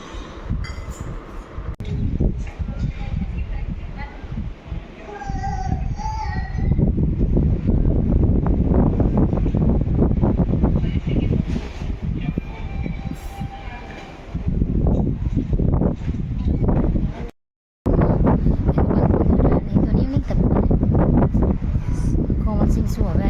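Strong wind blowing across the microphone, loud and rumbling for most of the clip, with gusts that rise and fall and one brief cutout. Voices speak under the roar.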